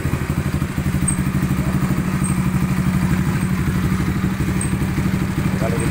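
Engine running steadily with a fast, rhythmic chugging pulse during a test of a homemade rear axle and knuckle, loud and close throughout, with someone speaking over it.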